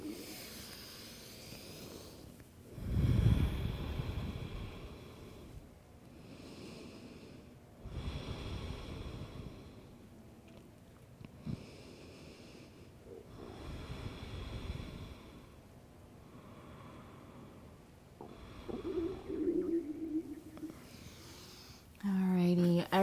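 Slow, deep breathing during a yoga class, long audible inhales and exhales recurring every few seconds at close range, with a few louder sharp exhalations and a voice speaking softly at times.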